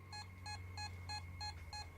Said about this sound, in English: Their meters beep throughout the room